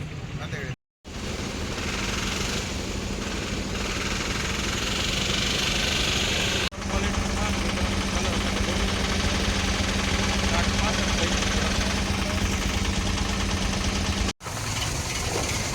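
A tractor engine idles steadily and loudly at an onion market, a continuous low rumble with a brief dropout near the start and another short break late on.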